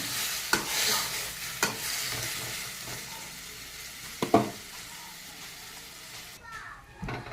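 Hot water poured into a frying vegetarian curry in a pan, with steady sizzling and stirring scrapes, a few sharp clinks of a utensil against the pan, and voices in the background.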